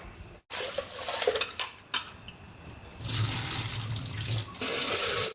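Tap water running over food being washed in a kitchen sink, with clinks of dishes and utensils early on, then a steady splashing flow that pauses briefly and resumes, close and clear with no talk.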